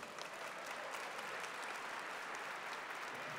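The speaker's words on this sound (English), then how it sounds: "A round of applause for Grant, folks" An audience at an award ceremony for a DeepRacer championship gives a steady round of applause, dense clapping at an even level throughout.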